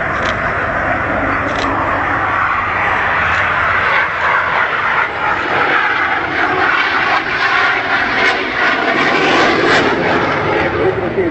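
Yak-130 Mitten jet trainer flying a display at RIAT 2012, a loud continuous roar of jet engine that swells and shifts as the aircraft passes, with a commentator talking over it.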